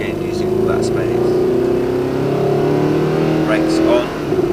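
Car engine holding a steady, droning pitch under throttle on a driving track, close and loud from start to finish, with a voice talking over the engine note.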